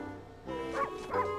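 A dog in the video game Okami gives two short, close barks about a third of a second apart, each one rising and falling in pitch, over a low background hum.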